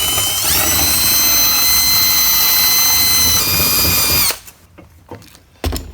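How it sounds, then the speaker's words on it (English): A power drill whines loudly and steadily as it spins an abrasive strip drum inside a steel bicycle frame tube during weld prep, then winds down and stops, leaving faint scraping. "You can do a longer strip, makes a larger diameter sort of drum, and then you know, you just spin it around in here."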